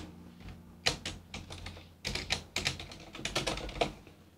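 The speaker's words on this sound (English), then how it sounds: "You like my silent keyboard?" Fast typing on a silent computer keyboard during a Europa Universalis 4 game session, a quiet run of soft clustered keystrokes in bursts with brief pauses, close and fairly faint, with no talking.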